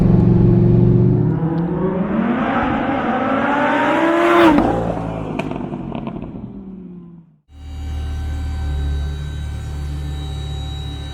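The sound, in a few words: supercharged Lamborghini Huracan Performante accelerating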